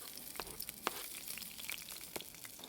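Onion, red pepper and chilies sizzle and crackle in a hot Balti pan over high flame. The frying is faint and steady, with scattered sharp pops and spatters and no talking.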